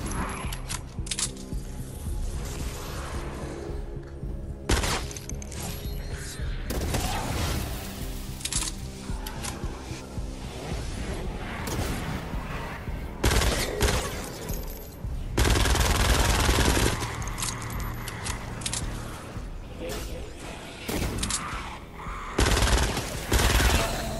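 Rapid automatic gunfire sounds in a dungeon mission of Fortnite Save the World, with near-continuous loud bursts and shots layered over game effects for the whole stretch.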